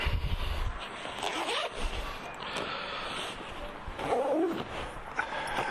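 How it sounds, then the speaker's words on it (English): A portable amateur radio kit bag for a SOTA activation being zipped shut, close scraping zipper strokes mixed with handling rustle and a short vocal noise, without clear speech. "zip him up"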